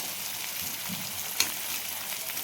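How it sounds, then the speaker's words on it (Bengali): Onion frying in a pan for chicken curry, a steady soft sizzle with a fine crackling hiss throughout and one brief sharper pop partway through, no talking. "এদিকে পেঁয়াজটা ভাজা হোক"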